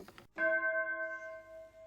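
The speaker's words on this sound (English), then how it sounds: "there's the bell" A single bell strike sounds clearly after a short burst of noise, its bright tone ringing out and slowly fading over more than a second, close and alone.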